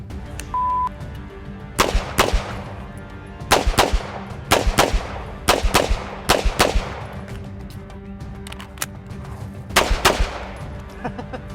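Handgun shots fired on a competition shooting stage ring out in loud, sharp bursts of rapid, irregular cracks with short pauses between strings, starting after a brief timer beep.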